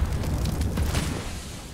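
A grenade explodes in Counter-Strike: Global Offensive on the Dust 2 map, a single loud, low boom that rolls out and fades over a couple of seconds, heard on its own.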